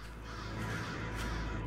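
Crows caw faintly in the horror video game Pineview Drive, a quiet blur of distant calls sitting in a low, steady ambient wash without any speech.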